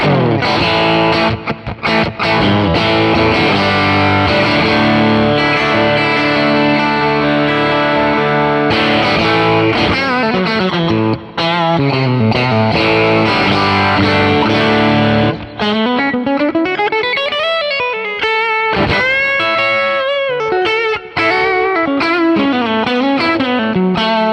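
PRS Silver Sky electric guitar on the bridge pickup, played with heavy distortion: sustained chords and bending lead lines run continuously and loudly, alone without talk.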